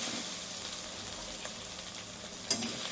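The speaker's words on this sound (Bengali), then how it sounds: "দেখো এটা একটু ভাজা হোক" Chicken liver frying in oil in a pan for a Bengali kosha dish: a soft, steady sizzle with faint crackles, heard close but at low level with no talking.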